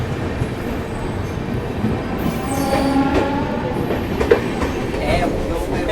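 A Shatabdi Express passenger train pulling out of Mathura Junction, with a steady rumble of rolling wheels, rhythmic rail clatter and occasional faint wheel squeals, heard from inside the carriage at moderate loudness.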